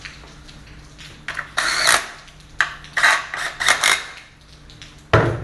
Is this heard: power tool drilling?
yes